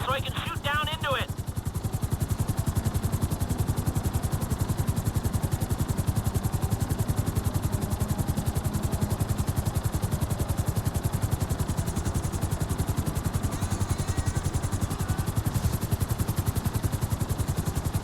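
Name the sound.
helicopter hovering in GTA 5 video game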